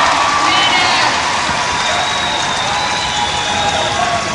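A wheelchair basketball crowd at a 1994 Gold Cup semifinal between Canada and the USA in Edmonton roars with sustained cheering and applause, a dense wash of noise that holds steady throughout.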